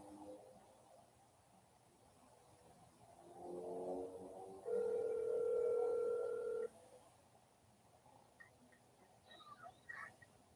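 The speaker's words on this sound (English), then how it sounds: "Now, Jeremy, you're going to be live on speakerphone" A telephone dial tone sounds over speakerphone, a flat, steady tone holding for about two seconds amid quiet room noise, with faint clicks before and after.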